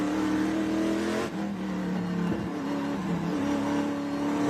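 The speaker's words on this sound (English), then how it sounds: "I'm definitely hearing a noise I have not heard before out of that 88 car" The 88 race car at a NOLA SpeedTour race roars loudly and steadily with an odd underlying noise, its engine tone briefly dipping and shifting midway before surging on, with no talk.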